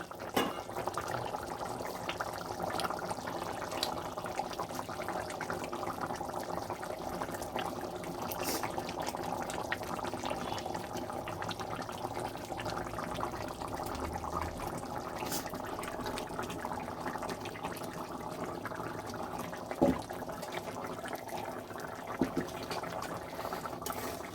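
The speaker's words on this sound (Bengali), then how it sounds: "ঝোলটা সুন্দর ফুটে উঠেছে" Potatoes simmering in a Bengali sarpunti fish curry broth, a steady low bubbling boil that holds for a long stretch with a couple of faint clinks and no voices.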